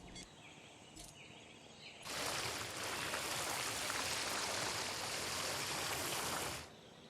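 Water flowing in the Jurassic World Evolution game, a steady rushing stream that starts abruptly, holds loud for several seconds and then stops, with faint ambience before and after.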